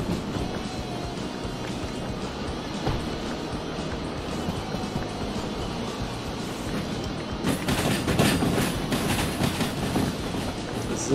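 A long train rolls along in the railway simulation game Derail Valley, a continuous rumble with rhythmic wheel clatter that grows louder and busier toward the end, with no talk.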